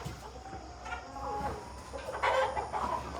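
Roughly twenty backyard chickens cluck and murmur together at close range, a steady overlapping chorus with a few louder calls standing out near the end, and no talk.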